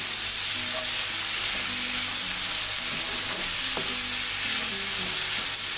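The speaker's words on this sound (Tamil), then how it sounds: "நீ இந்த சிக்கனை வதங்க விடணும்." Chicken sautéing in a pan for chicken rolls, a steady close sizzle and hiss of frying with faint scrapes of stirring, continuous throughout and without any talking.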